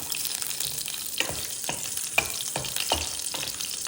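Urad dal and torn red chillies frying in hot oil for a Telugu prawn and ridge gourd curry, a steady close sizzle with sharp spitting pops and occasional stirring scrapes.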